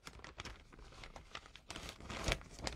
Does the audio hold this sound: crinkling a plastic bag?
yes